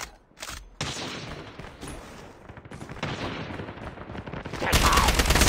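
Rapid automatic fire from the ASM10 assault rifle in Call of Duty Mobile, with dense bursts of close, punchy shots broken by brief pauses and building to a loud sustained volley at the end.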